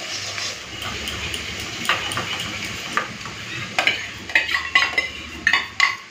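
Sesame paste and eggs being stirred in a pan, a soft sizzle underneath with scraping and clinking of the spoon against the pan, growing sharper and more frequent toward the end.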